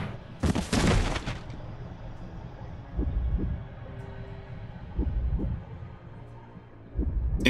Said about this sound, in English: If you could actually hear the heartbeat like that, that's terrifying.